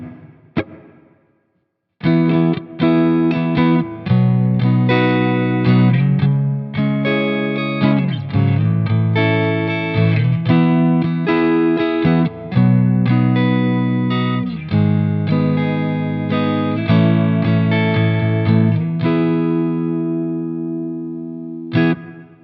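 Electric guitar through the clean channel of a Mesa Boogie 90s Dual Rectifier reissue with reverb, strummed chords and picked notes ringing out loud and full, each decaying into a wash of echo, played alone.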